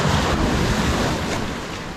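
Steady, loud ocean surf washing on a Vancouver Island beach at high tide, a continuous broadband rush with wind buffeting the microphone and no talking.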